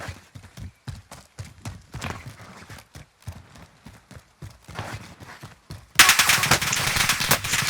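Suppressed gunfire from a first-person shooter video game, with rapid bursts of sharp shots and clattering movement, ending in a louder, denser burst of noise.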